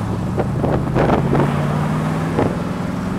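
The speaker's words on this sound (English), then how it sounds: "That exhaust is so cool." A loud 1974 Corvette driving, its exhaust giving a deep steady rumble with wind buffeting the microphone and several sharp bursts of wind noise.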